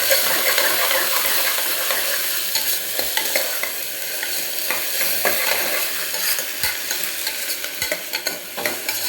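Tomato and two green chillies sautéing in a pan with onion for a Tamil home-cooked dish, a continuous loud sizzle with scraping stirs and occasional sharp ladle taps near the end.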